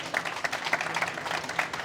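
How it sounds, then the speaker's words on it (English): An audience applauds at a Saint Lucia cruise port presentation at Seatrade Cruise Global 2025, welcoming an Olympic champion: a steady patter of many hands clapping, fairly soft and distant, with no talk over it. "That's an applause."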